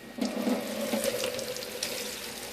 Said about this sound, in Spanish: entonces echo un poco de agua